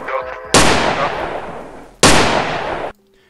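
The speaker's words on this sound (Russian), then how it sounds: "Дальше это выстрелы." Gunshot sound effects in a phonk remix: two loud, sharp blasts about one and a half seconds apart, each trailing into a long, noisy decay that cuts off suddenly, with faint musical tones before the first shot.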